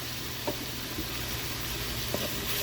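Chopped greens sizzle as they are dropped into a pressure pot, a steady broadband hiss that runs the whole time, with a few faint clinks from stirring.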